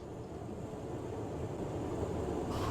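Steady whirring drone of a jet aircraft engine in the video game Ground of Aces, a broad continuous hum held at even loudness throughout with no talking.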